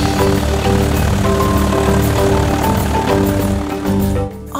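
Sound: propeller-powered toy engine Hugo passing by

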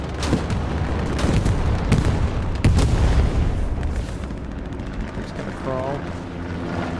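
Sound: gunfire in a Stalingrad video game

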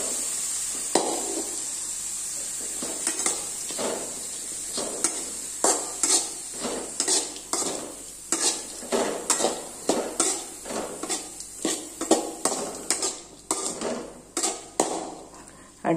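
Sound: stirring tomatoes in a pan for garlic rasam

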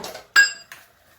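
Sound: dishes and pots clattering while being washed

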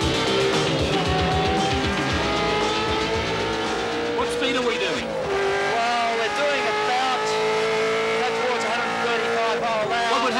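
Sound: race car cornering at high speed

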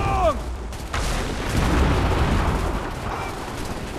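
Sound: gunfire in video game Assassin's Creed III

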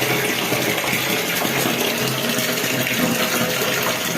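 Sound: water poured onto a leaking bathroom floor

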